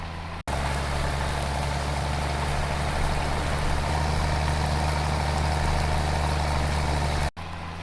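A video-game tractor engine drones steadily at a loud, even idle, a dense low rumble with a continuous noisy wash over it and a brief cut at either end.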